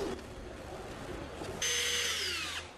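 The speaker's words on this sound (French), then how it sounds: "soit vous pouvez utiliser une mèche, une petite mèche à bois pour faire un pré-trou" A power drill with a small wood bit boring a pilot hole into wood for a headboard, a steady high whine rising sharply near the end then cutting off, over faint background hum.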